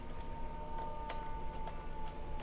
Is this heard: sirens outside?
yes